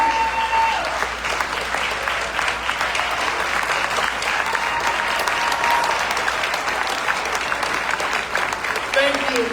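An audience at a STEAM academy school dedication applauds a teacher, sustained close clapping that runs evenly throughout, with a faint voice or two briefly audible beneath it.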